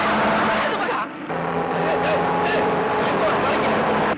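A lorry rumbles by with a steady engine drone, a brief dip midway, while people talk over it.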